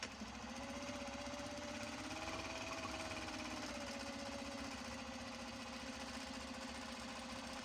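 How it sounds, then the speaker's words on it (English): A sewing machine stitches fabric for a Japanese Kato fabric drawstring bag, giving a steady, continuous mechanical whir with a fast rapid needle rhythm that runs unbroken at moderate level throughout, with no talking. "now that it's getting sewn in"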